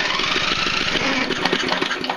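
A tractor engine cranks with a rapid, steady chugging pulse throughout, loud and close, as attempts are made to start it.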